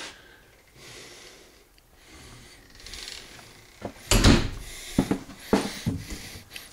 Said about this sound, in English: Barn looking door, I thought that was a nice touch.